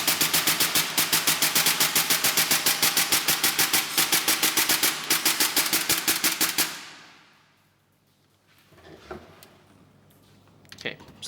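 A Tokyo Marui MP7 gas blowback airsoft gun fires a fast, steady string of sharp, close, loud shots for several seconds, then stops, followed by faint handling clicks.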